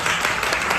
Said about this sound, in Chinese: 我们再给他来一次掌声